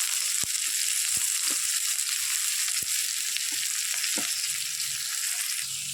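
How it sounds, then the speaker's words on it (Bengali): Chopped onion and garlic crackle in hot oil, a continuous bright sizzle with scattered sharp ticks and scrapes from a utensil against the pan, close and steady without speech. "তেলটা আমার গরম হয়ে গেছে এবার এটার মধ্যে দিয়ে দেব পেঁয়াজ কেটে রাখা পেঁয়াজ রসুন কুচিগুলো দিয়ে দিলাম"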